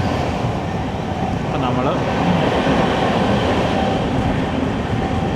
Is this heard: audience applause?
no